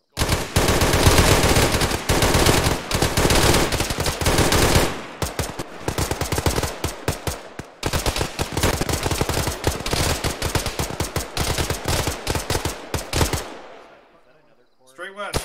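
Automatic rifle gunfire in a squad-based military video game, long loud bursts of rapid shots with a brief pause midway, then tapering off into quiet near the end.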